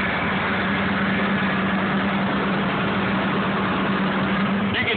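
A Nissan 240SX engine with a bad pulley runs steadily and loud, a continuous idle drone with a low hum that never lets up.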